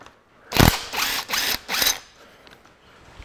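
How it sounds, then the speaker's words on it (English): A Makita nut gun rattling bolts off a Ferguson 23C diesel tractor engine: four loud, close bursts of impact hammering, each about a third of a second long, then quiet workshop handling. "I've got my little favourite little Makita nut guns here."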